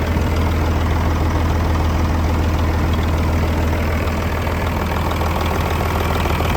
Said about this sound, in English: This old motor sounds good.